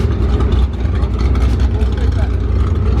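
A Lamborghini Aventador makes a deep, steady engine rumble nearby. It holds at a constant level for the whole span, and people talk over it.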